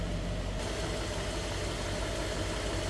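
A 1960 Oldsmobile Dynamic 88 Holiday Sedan with a 371 Rocket V8 idles smoothly, giving a steady low rumble with a faint rhythmic pulse throughout and no voices.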